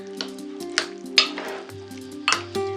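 Cold pasta being stirred into a cilantro sauce in a bowl, with a handful of close, soft wet scrapes and squelches in an irregular rhythm over a faint steady hum, and no talking.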